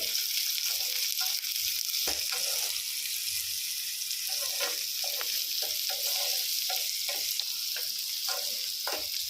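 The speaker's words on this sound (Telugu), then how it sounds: "ఇలా మంచిగా కలుపుకుంటూ వీటిని వేయించుకోవాలండి" Finely chopped onions sizzle steadily in a hot pan while a spoon stirs them, with repeated short scraping strokes over the continuous frying hiss, close and moderately loud.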